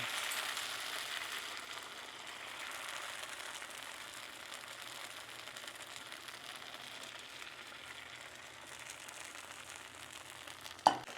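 Vegan, gluten-free bánh xèo batter swirled into a hot pan, giving a soft, steady sizzle and crackle that fades slowly, ending with a brief sharp clink.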